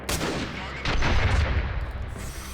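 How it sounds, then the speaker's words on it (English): Grenade blasts and rapid gunfire from a modern guerrilla warfare battle in the game Freeman: Guerrilla Warfare, with loud overlapping shots and a heavy booming burst partway through, without any talk. "Are my men throwing grenades too?"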